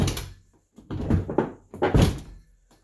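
A rollover-damaged Nissan Armada door is opened and sags down, giving a few close metallic clunks and thuds with quiet gaps between them.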